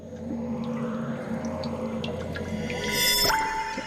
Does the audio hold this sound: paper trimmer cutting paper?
no